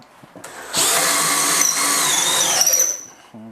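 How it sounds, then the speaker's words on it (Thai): A DeWalt DCD805 cordless drill runs in second gear in drill mode under heavy pressure, its motor whining loud and steady for about two seconds before spinning down, with nobody talking. "ปรับไปที่โหมดเจาะครับปรับไปที่เกียร์สองเหมือนกันผมจะพยายาม กดให้แรงที่สุดเท่าที่ผมจะกดได้กันนะครับเพื่อที่จะ ดูว่าการเจาะของมันจะเป็นไงนะครับ"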